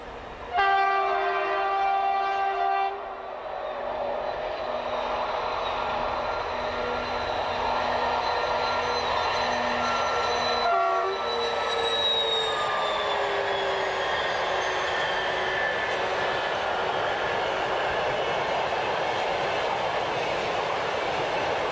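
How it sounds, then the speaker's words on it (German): Railway track construction machines rolling along rails during line electrification work, a loud steady rumble with a long horn-like tone early on and screeching metallic wheel squeal, continuous throughout with no talking. "Dazwischen rollen Gleisbaumaschinen."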